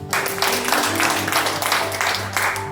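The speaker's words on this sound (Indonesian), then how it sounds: "Ayo tepuk tangan buat orang-orang tua di sini." Sunday worship congregation clapping for the elders, steady rhythmic hand claps over sustained music, moderately loud and continuous.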